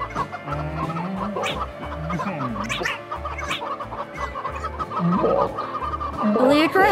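Chickens in a video game clucking repeatedly in a dense, busy cluster of sounds, with game music and effects layered underneath and rising louder toward the end.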